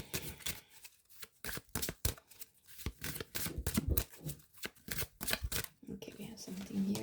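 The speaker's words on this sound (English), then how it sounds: "I'm going to pull some oracle cards and we see what we get." Oracle cards shuffled by hand at close range: a steady run of crisp, papery riffling bursts with brief pauses between them.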